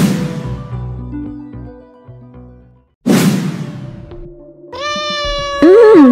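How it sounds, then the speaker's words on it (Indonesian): A pet cat lets out a few loud, close meows, the later ones rising and wavering, with a brief whoosh between them and no talking. "Kucing kesayangan Ai"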